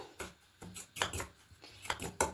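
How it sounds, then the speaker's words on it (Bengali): A spoon stirs semolina batter mixed with powdered milk in a bowl, giving a series of quick scraping, clinking strokes in an irregular rhythm, close and fairly quiet. "এবার খুব ভালো করে মিশিয়ে নেব।"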